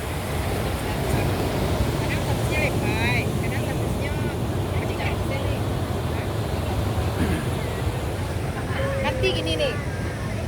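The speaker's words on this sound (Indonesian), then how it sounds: "Ombak berkejar-kejaran sampai ke pinggir pantai." Night surf rolling onto the shore at Muaro Padang beach (Taplau), a steady continuous wash with wind buffeting the microphone, faint distant voices and a brief whistle-like tone near the end.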